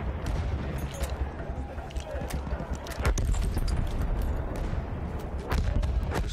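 Rapid gunfire from a machine gun in the World War I shooter Battlefield 1, dense bursts of crackling shots layered over loud battlefield din, with heavier bursts swelling midway and near the end.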